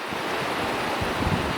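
A river flows near mountains at a campsite, heard as a steady broadband rush of water with some wind buffeting on the microphone, constant and fairly close, no voices.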